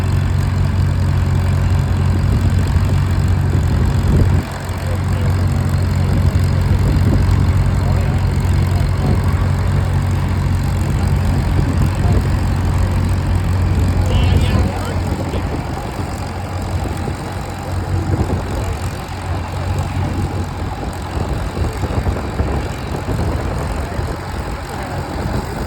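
A steady, loud tractor engine drones through a tractor pull with a 5,900-pound, clean, original-looking tractor, its low rumble constant and near, dropping slightly partway through as the run winds down.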